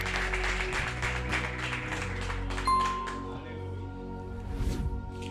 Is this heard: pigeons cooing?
no